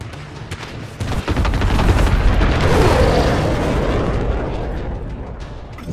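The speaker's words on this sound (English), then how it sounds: "Allied cruise missile launched." A cruise missile strike in Call of Duty Modern Warfare, a sudden heavy blast that swells into a long, loud rumbling roar and slowly fades over several seconds.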